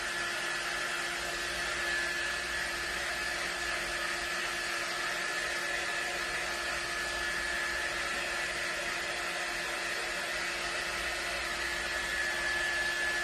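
A heat tool blows a focused stream of air to dry paint on a DIY holiday sign, giving a continuous loud, even whirring hiss with a steady high whine that never changes for thirteen seconds.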